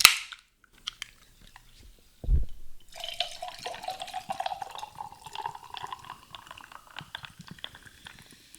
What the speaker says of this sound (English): You can hear that nice fizz.